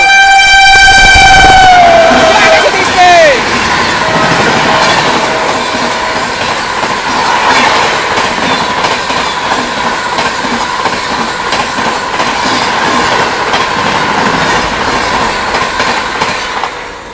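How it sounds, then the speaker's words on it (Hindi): The 12423 Dibrugarh–New Delhi Rajdhani Express, running about eight hours late, sounds a loud horn blast lasting a couple of seconds and then thunders through Khurja Junction without stopping, with a steady roar of wheels and wagons. "सामने से आ रही है 12423 डिब्रूगढ़ नई दिल्ली राजधानी एक्सप्रेस अपने निर्धारित समय से तकरीबन 8 घंटे की देरी से स्किप कर रही है खुर्जा जंक्शन को"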